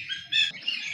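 Birds in an outdoor aviary, eight by twenty metres, chirp and tweet continuously, with several bright overlapping calls close by and a busy layer of softer twittering underneath.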